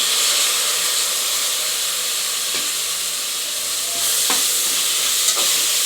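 Chopped tomatoes and coriander leaves frying in a pan for vangi bath, a continuous loud sizzle and hiss with a few faint stirring clicks, no talk.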